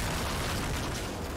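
A Boomshot explosion in the video game Gears 5 gives one loud, dense, rumbling blast that fills the short moment, near and sustained, with no talk.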